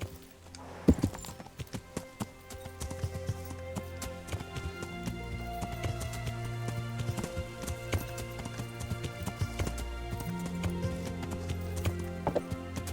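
A horse galloping in the medieval video game Kingdom Come: Deliverance, steady rhythmic hoofbeats running continuously at moderate volume under a game ambience, with no speech.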